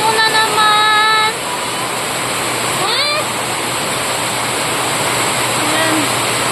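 Heavy rain pours in a loud, dense, continuous wash of broadband noise. A voice and a whistling tone rise briefly over it near the start.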